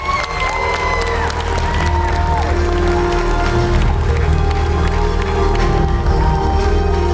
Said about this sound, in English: why don't we give them all a big warm round of applause?